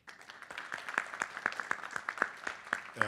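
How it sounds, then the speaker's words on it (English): Sparse applause from a panel audience at a trade week event, individual claps spaced roughly a third of a second apart, moderately close and fairly quiet, building slightly toward the end. "give me a warm round of applause for Erin Butler and the panel today"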